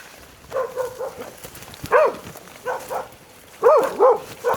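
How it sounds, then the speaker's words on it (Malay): A pack of dogs on the Bukit Mentigi hiking trail in Tanah Rata, Cameron Highlands barks in bursts, several sharp overlapping barks at moderate distance against quiet forest background. "Anjing tu masih dalam tu lagi. Sekumpulan anjing."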